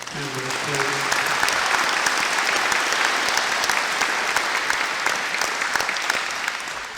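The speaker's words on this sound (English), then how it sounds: "So if I could have one more round of applause for all of our members, please." A crowd gives sustained, loud applause at a grand opening ceremony for a community center, full and dense throughout, with a voice briefly audible at the start.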